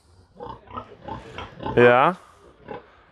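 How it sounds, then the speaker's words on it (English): Pigs and piglets on a farm in Bohol give a loud, harmonic squeal near the middle, with a voice talking before and after it. "Pigs and piglets."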